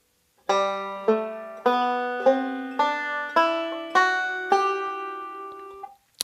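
Eight plucked banjo notes of the G Ionian mode rise stepwise in an even, unhurried scale, each ringing briefly before the next, played alone and close.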